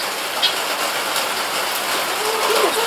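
Steady rain falls outdoors on a farm during morning chores, an even hiss of drops with a few sharper taps close by, and no talk over it.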